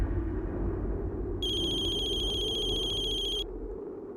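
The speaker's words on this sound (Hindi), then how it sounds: "आई का फोन।" A mobile phone ringtone sounds as a steady electronic tone lasting about two seconds, heard over a low background hum with no talk.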